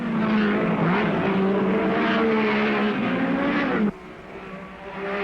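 Two 1959 racing cars, a Ferrari and a Cooper, roar loudly and close together at full throttle through the curves, their engine notes overlapping before one sound cuts off sharply and a quieter engine continues.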